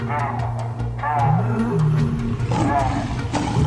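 A lion roars across the Serengeti in a loud, rough series of harmonic bursts, the call repeated several times over a steady background rumble, with a voice-like quality at moments.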